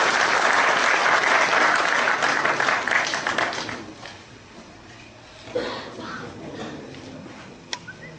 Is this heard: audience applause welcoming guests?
yes